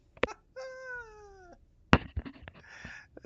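A kitten gives a long, drawn-out meow up close, framed by a few sharp knocks and rustles, followed by a shorter, rougher cry amid more bumping and handling noise; nobody speaks.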